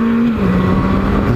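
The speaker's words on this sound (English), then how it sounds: "Ooh, nice Porsche. The 911." Porsche 911 passing on a road, heard as a loud, steady engine hum with a slight drop in pitch as it goes by, close to the microphone.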